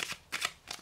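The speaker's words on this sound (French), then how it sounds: "on va tirer deux ou trois cartes, on va voir" Lenormand fortune-telling cards shuffled in three quick riffling bursts, crisp papery flutters close by with short pauses between, no voices.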